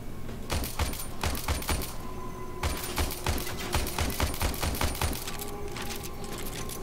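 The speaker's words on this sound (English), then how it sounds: "Yes, I can shoot from this distance." Rifle fire in the Warframe video game comes in rapid, crisp, evenly spaced shots grouped into bursts with brief pauses between them, moderately loud.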